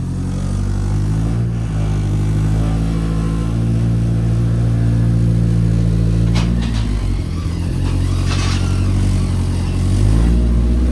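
A Polaris Thresher Shark in race mode driven off a trailer, its engine a loud steady close drone with brief revs and shifts in pitch partway through, no talk.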